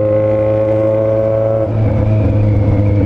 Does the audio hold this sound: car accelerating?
yes